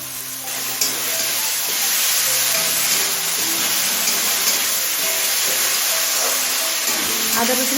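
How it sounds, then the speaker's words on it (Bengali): Ginger and garlic paste sizzles steadily in a pan after soft tomatoes, a loud continuous frying hiss that runs the whole stretch, with faint background voices and low tones underneath. "কাঁচা গন্ধ চলে যাওয়া পর্যন্ত কষিয়ে নেব আদা রসুনের"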